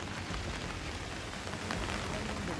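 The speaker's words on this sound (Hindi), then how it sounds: "उत्तराखंड में कई इलाकों में लगातार बारिश हो रही है" Heavy, continuous rain across Uttarakhand forms a steady, dense hiss that stays even from start to finish, with no voices in it.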